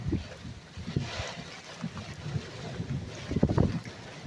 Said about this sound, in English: Now we got a wind shift.